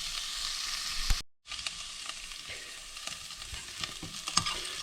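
Onions cooking down in a pan for chili colorado, with a steady close sizzle and sputter and light stirring scrapes, and a brief full dropout near the start.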